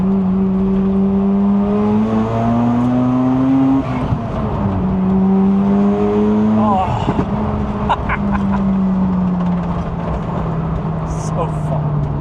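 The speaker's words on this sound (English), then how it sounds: "All the JDM noises of my childhood." A JDM sports car engine revs hard and loud through the gears, pitch climbing in long sweeps with brief drops at shifts, captured close from inside the cabin while a person talks over it.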